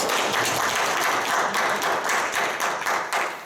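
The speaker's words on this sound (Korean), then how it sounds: "강식 박사님께 박수 한번 다시 한번" An audience at a local public forum claps for a speaker, a dense, steady burst of applause from a room of people that holds evenly and eases off slightly at the end.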